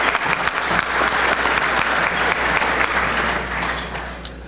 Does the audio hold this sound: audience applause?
yes